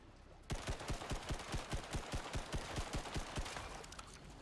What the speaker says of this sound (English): So inaccurate, the assault rifle.